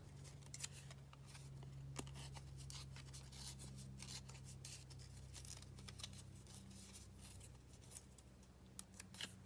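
Paper torn by hand for an altered book project, a quiet, close series of papery rips and rustles with irregular crackles over a faint steady hum.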